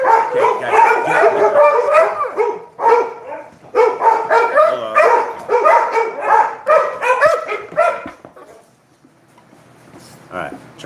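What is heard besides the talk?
dogs barking indoors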